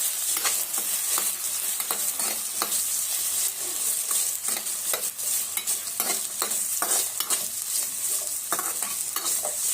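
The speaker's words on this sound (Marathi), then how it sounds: "आता हे देखील आपल्याला व्यवस्थित असं परतून घ्यायचं" Potatoes sautéing in a hot pan for masala rice, a steady loud sizzle with a spoon repeatedly scraping and stirring through them, close and continuous with no voices.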